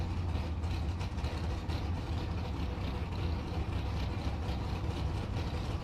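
A Suzuki drag racing motorcycle at a bracket race, a steady low engine drone that holds evenly at moderate loudness for the whole stretch, with no voices over it.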